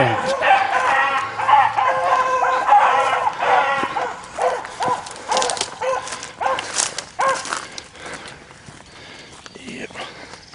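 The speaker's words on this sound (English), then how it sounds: "I hope we get where we can see these dogs." Hunting dogs bark and yip repeatedly in a swamp during a rabbit hunt, mid-distance, with rustling and footsteps close by and people talking over the barking.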